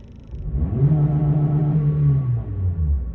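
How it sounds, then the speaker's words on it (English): A 2022 Toyota Corolla engine revs up from idle, a close, loud rising rumble that holds high for about two seconds and then falls back, with no speech. "John Jones asked me to rev my engine."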